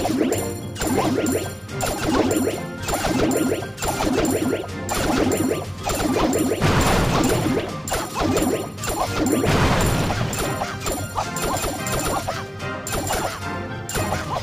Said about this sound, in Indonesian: akhirnya hancur juga untuk tower archernya